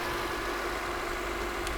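A car engine idles steadily and evenly throughout, a continuous low hum with no revving, fairly close and moderately loud, with no talking over it.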